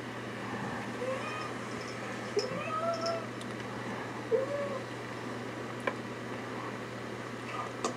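A cat gives a few faint, short meows over a steady low hum and light background noise, with no talking.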